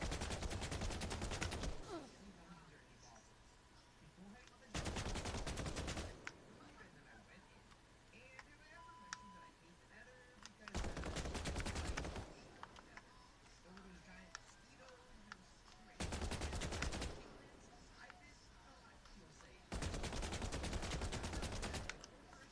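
Video game gunfire comes in five loud bursts of rapid automatic shots, each lasting about one to two seconds, separated by quieter stretches with faint ticks and small game sounds.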